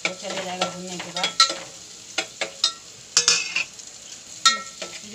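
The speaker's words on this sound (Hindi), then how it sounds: "ये सिंगदाना है इसे ऐड करके थोड़ा इसे भी भूनेंगे" Peanuts sizzle and pop as they roast with onions in a pan, with a spatula scraping and stirring in sharp, irregular strokes over a quiet background; no talking.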